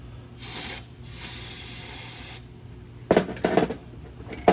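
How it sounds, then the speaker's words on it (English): Carb cleaner sprayed into a carburetor on a car being rebuilt with sheet metal replacement: two close hissing spray bursts, one short and one longer, then a few louder clattering knocks and rubs from handling the parts. "I'm just gonna have to do it with carb cleaner"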